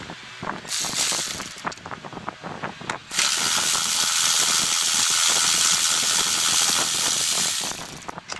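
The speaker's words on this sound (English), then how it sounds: "the Ingersol Rand 3/8 drive air ratchet is a great tool" An Ingersoll Rand 3/8-inch drive air ratchet runs in loud, sustained pneumatic bursts, with rapid clicking and a steady hiss holding for several seconds after a shorter opening run.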